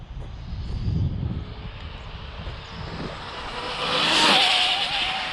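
A radio-controlled car fitted with homemade carbon fibre parts speeds along, its motor giving a broad, rushing whine that swells and climbs in pitch near the end, with no talking.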